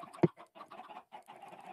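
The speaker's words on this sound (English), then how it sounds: "Chickens!" A short burst of game chickens, with one loud sharp squawk near the start followed by a run of quieter choppy clucks.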